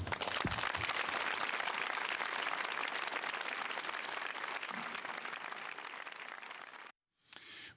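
Sustained applause from an assembled audience offered as a tribute, a dense even wash of clapping that carries on for several seconds, then cuts to a brief silence before another short burst.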